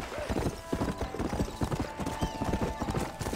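Horse hooves clip-clopping in the western video game Red Dead Redemption, a quick steady patter of close, crisp hoof strikes on the ground with no talk over them.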